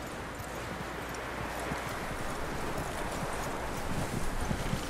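Horse hooves clip-clop at a walking pace in Red Dead Redemption 2, a steady rhythmic thudding over a constant windy outdoor ambience.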